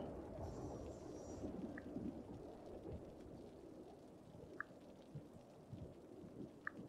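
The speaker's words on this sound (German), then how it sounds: "Oh, derbes Gewitter." Steady rain with scattered thunder cracks in a Cities: Skylines thunderstorm, a continuous wash of downpour broken by a few sharp distant rumbles, with no talking.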